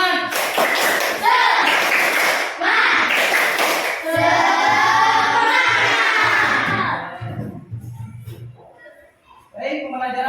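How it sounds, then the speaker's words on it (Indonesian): A class group claps in a quick rhythmic pattern while voices chant and cheer together, ending with a brief pause before a voice resumes. "Tepuk semangat."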